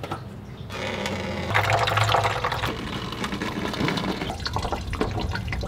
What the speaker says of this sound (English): drain it all out into containers